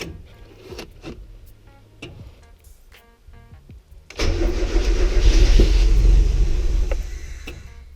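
A Mazda Miata engine running with its intake removed cranks with a few ticks, then fires into a loud, rough, close idle that holds steady before easing slightly.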